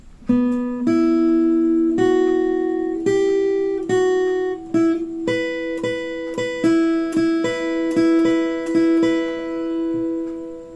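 A clean acoustic guitar plays the intro melody of a theme from Silent Hill 2, plucked notes steady and close, ringing out one after another with no voices.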